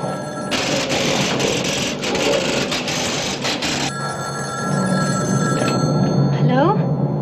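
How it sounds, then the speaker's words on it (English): A telephone rings indoors, with a loud repeated bell that sounds in bursts as voices talk over and around it. "Your phone's ringing."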